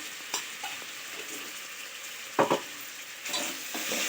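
Ivy gourd masala curry sizzles softly in a pan while a spoon stirs it, with a steady low frying hiss and a few louder scraping strokes against the pan, close and otherwise quiet.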